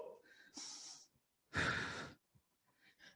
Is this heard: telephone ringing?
no